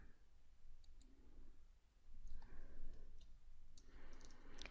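Computer mouse clicks on an icon, a few faint, sharp ticks against a quiet room hiss, with no talk.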